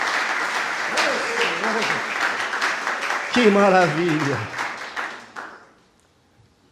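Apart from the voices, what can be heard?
congregation applauding in church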